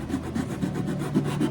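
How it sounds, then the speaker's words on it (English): Steady back-and-forth rasping of 220 grit adhesive-backed PSA sandpaper on the pickguard area of a 1971 Martin 000-18 acoustic guitar, close and rhythmic, with no voices. "This is just some 220 pressure sensitive PSA sandpaper."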